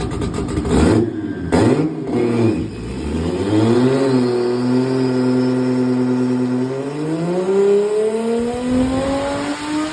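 A Toyota 1JZ engine in a Nissan S13 with a new turbo revs hard near the microphone, its pitch climbing steadily with a whooshing, rising turbo-spooling whine layered over the growl.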